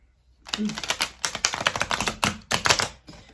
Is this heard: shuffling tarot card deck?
yes